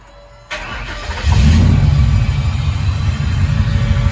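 A turbocharged Coyote engine in a 1962 Ford F100 on a CVPI chassis swap cranks and catches quickly after a faint fuel pump whine, then settles into a loud, deep, steady rumbling idle up close.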